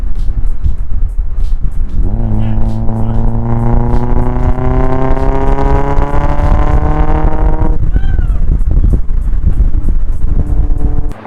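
A Mazda Miata with a manual gearbox, driven in third gear, revs hard under full throttle. The engine note climbs steadily for several seconds, then drops sharply at a shift. It is loud and close, with heavy wind rush throughout.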